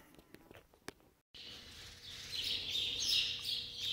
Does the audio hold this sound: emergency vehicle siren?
no